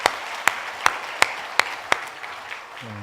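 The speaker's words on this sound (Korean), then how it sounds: "영광의 박수하겠습니다." A church congregation claps in rhythm, about six sharp, evenly spaced beats rising above a steady wash of applause, which thins out before a low tone enters at the end.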